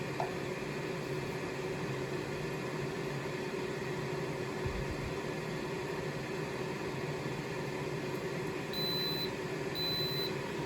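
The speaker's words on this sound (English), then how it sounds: "So we'll see what it looks like when it beeps here." Two short high electronic beeps near the end from an Instant Pot air fryer lid finishing cooking bacon, spaced about a second apart, over a steady fan-like hum.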